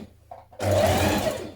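A sewing machine stitches pleats in place on a child's dress, starting abruptly after a brief quiet pause and then running as a steady, close, continuous whir.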